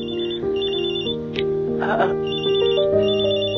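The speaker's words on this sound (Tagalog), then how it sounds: "May tumatawag yata sa cellphone mo." A cellphone rings in a Filipino radio drama, a repeating electronic ringtone with a steady tonal melody that plays loudly and close, with brief voice sounds in between.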